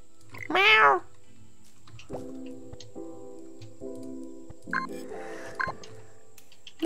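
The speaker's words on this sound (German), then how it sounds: "Das ist eine miese Katze, die dir folgt." A cartoonish cat in the video game Garden Paws gives one clear, rising meow, then soft game music tones and faint effects play for several seconds, with a second brief mewing sound later.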